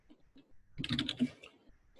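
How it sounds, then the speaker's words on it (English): Rapid keyboard typing, a dense burst of clicky keystrokes in the middle, with a few isolated taps before and after. "Typing's not my forte."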